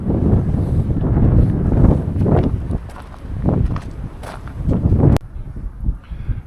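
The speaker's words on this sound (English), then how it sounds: "If you can hear the wind, yep, you can see what's going on here" Cold winter wind gusts across a lakeside campsite beside a parked Entegra Condor camper van, buffeting the microphone in loud, rumbling surges that rise and fall, then drop away abruptly near the end.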